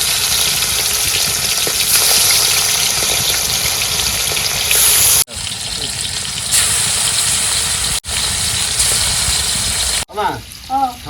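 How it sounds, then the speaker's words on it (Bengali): Bhola fish fries in hot oil with a loud, dense, continuous sizzle that briefly cuts out a few times, and some faint sounds near the end. "তেল গরম হয়ে গেছে মাছ দিয়ে দিই হ্যাঁ"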